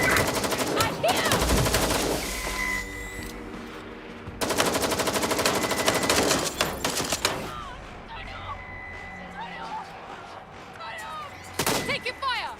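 Gunfire in the video game Watch Dogs: Legion: loud bursts of rapid automatic fire in two long volleys, then scattered shots and a final short burst, with a voice calling out between them.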